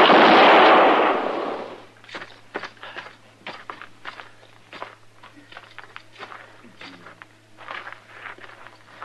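Gunshots ring out in an old-time radio western drama shootout: a loud blast at the start fades away, followed by a string of sharper cracks and footstep-like knocks at close range.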